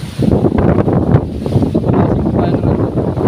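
Strong wind buffets the microphone in a continuous low roar, gusting slightly louder and softer throughout.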